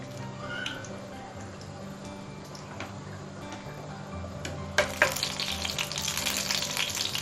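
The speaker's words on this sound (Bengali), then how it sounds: "এটাকে গরম করে এবার আমি 3টা শুকনো মরিচ এভাবে" Dried red chillies, torn by hand, fry in two tablespoons of hot oil in a pan, a soft steady sizzle with light ticking crackles that grows brighter and louder near the end.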